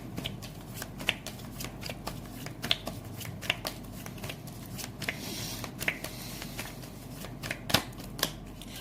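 Tarot cards are riffled and shuffled continuously at close range, a steady soft papery rustle broken by frequent sharp flicks and snaps.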